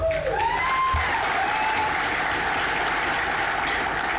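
Audience applause at a corporate success event in a hotel fills the space with a dense, steady clatter of many hands clapping. It is close and continuous throughout, with a faint whistle-like tone near the start.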